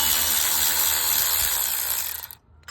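Ratchet socket wrench clicking steadily while working on a Pontiac G8 alternator belt tensioner, a dense continuous rapid ratcheting close up that stops abruptly near the end, with a brief click after.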